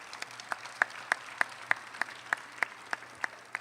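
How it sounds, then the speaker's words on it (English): Sparse, evenly spaced claps at a graduation ceremony, a dozen or so distinct sharp hand claps in a steady rhythm over a low background hum, close and fairly clear. "Let's give a round of applause."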